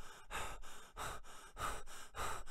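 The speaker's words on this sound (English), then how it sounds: "Can you stop that heavy breathing now?" Heavy, rhythmic breathing, loud and close, with four or five deep gasping breaths in steady succession and nothing else audible.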